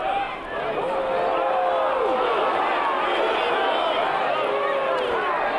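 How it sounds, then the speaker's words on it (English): Vocal crowd at an NCAA tournament college baseball game between NC State and Louisiana Tech in a stadium, a dense continuous roar of cheering voices and whistles, loud and sustained. "Can already hear it. This crowd is into it. They are vocal."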